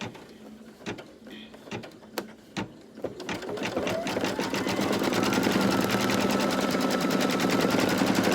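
An embroidery machine stitching an outline: a few separate clicks and taps, then a steady rapid mechanical chatter of needle strokes that keeps going, loud and close.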